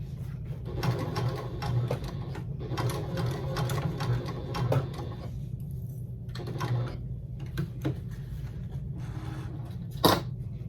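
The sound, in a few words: sewing machine top stitching tote bag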